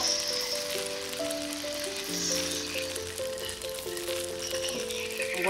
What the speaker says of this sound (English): Over medium high heat, I'm going to add in the bacon slices.